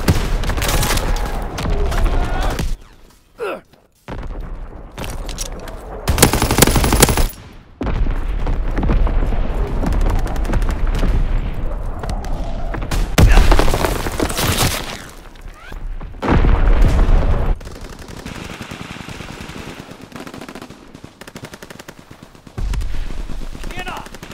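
Artillery blasts and gunfire from the World War II shooter Call of Duty WW2, with heavy booms and bursts of automatic fire that come in loud waves and brief lulls, close and intense.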